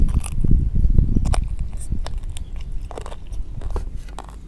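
Hard, crunchy chewing on chicken cartilage, repeated cracking bites in an uneven rhythm, very close and loud at first, then softer.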